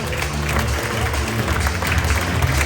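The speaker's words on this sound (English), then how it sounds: "So round of applause for Ralph." Applause at a football club awards ceremony fills the clip, a dense crowd of hands clapping steadily with chatter mixed in.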